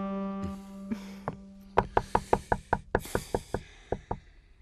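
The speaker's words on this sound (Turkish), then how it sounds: "Kapıyı çalacaktım değil mi?" Knocking on a door in a Turkish TV film scene: a quick series of about a dozen sharp, evenly spaced raps, loud and close, following a held musical tone with no talk.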